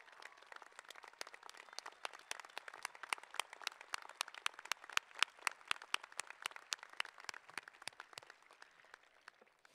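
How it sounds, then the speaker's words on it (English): Commencement audience at the 2016 HSU College of Natural Resources & Sciences ceremony applauding, a dense, steady patter of many hands clapping that holds throughout and fades slightly at the end. "Would all of you stand for a round of applause?"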